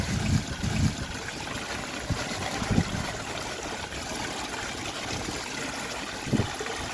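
Water sloshes and trickles as beach sand is panned for gold, a steady wet swirling with a few low thumps, close and moderately loud with no talking.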